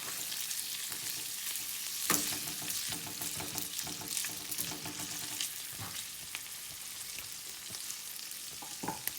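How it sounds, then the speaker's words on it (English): Pancetta frying in hot oil gives a soft, continuous hiss with occasional faint clinks and scrapes, heard alone at a low, even level from close by. "I'm gonna add only the pancetta and let that start to cook."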